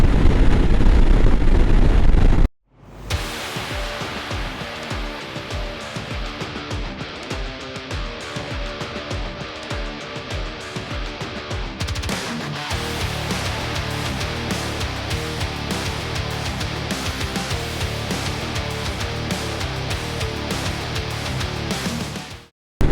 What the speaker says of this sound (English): That wind coming into the gorge is pretty bad.